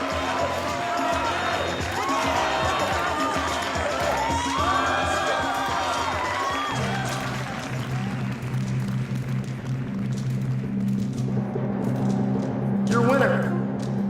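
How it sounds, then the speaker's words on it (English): Large audience at the 1970 Mr. Olympia bodybuilding contest roaring and cheering loudly and continuously, with shouts and whoops over the din, while an announcer's voice carries through the crowd noise. "The crowd is absolutely nuts at this point."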